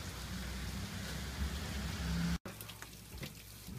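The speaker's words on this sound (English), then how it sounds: "it sounds like rain coming down, and it is raining" Steady rain falls outside on a cold night, a dense close hiss of drops that briefly cuts out and then resumes a little quieter, with no voices.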